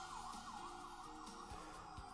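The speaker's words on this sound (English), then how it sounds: "Police cars outside." Police car siren wailing outside, a steady rising and falling tone that stays fairly distant and muffled behind a window, continuous throughout with no talking.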